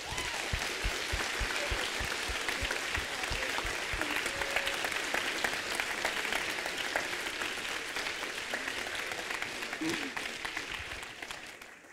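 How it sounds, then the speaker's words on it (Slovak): An audience gives the actors of a school show sustained, dense clapping throughout, loud and steady with faint crowd murmur underneath. "obrovský potlesk pre všetkých hercov za ich výkony"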